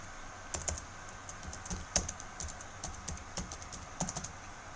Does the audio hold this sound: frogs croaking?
no